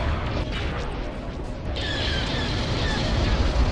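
Space battle in a Star Wars strategy game, with steady rumbling booms and weapons fire under laser-like whines, dense and continuous throughout.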